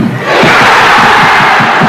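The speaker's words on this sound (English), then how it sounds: "you can hear the crowd appreciating it" Football stadium crowd roaring at an Aberdeen versus Hearts match, a loud, sustained, rolling cheer from thousands of voices, close and dense, with no commentary heard over it.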